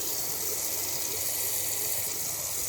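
Water runs steadily from a household tap boosted by a Combi SP2B shower pump, a continuous broadband gush with no pauses, close and loud throughout.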